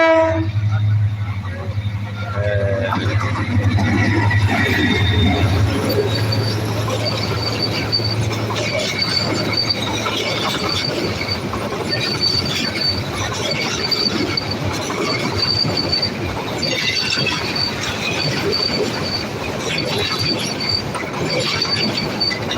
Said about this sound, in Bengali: চলে আসছে ট্রেন এই যে এবার আমাদের সামনে দিয়ে চলে যাবে ট্রেনটি